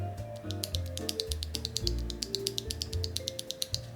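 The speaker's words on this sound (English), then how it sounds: "you're gonna be hearing the sound of my nails on the keyboard as well when I type" Rapid clicky keystrokes with sharp, hard taps from long fingernails on a mechanical keyboard clatter in an uneven typing rhythm close up, with no talking.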